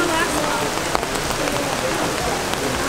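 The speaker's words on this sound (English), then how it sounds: "It's raining, it's pouring all day." Heavy rain pours down steadily outdoors in Boston, a dense, continuous hiss of drops striking surfaces close by, with no letup.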